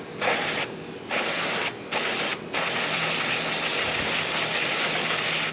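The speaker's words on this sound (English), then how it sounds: "I'm going to take some brake cleaner and spray the surface that I just cleaned" Brake cleaner aerosol sprayed close up onto a cleaned surface around a gas filler neck on a 1968-1982 Corvette C3, in four loud hissing bursts: three short ones and then a long continuous spray.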